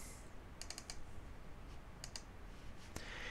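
Mouse clicks at a computer during Photoshop shape editing, several quick double-click pairs spaced through a quiet room, faint and close.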